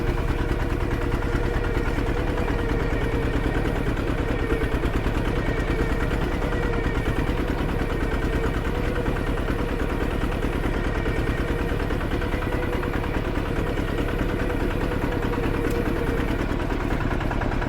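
Thai-made New Tech tractor engine running steadily while clearing rough land, a loud, continuous close chugging drone with rapid rhythmic pulsing throughout and no pauses.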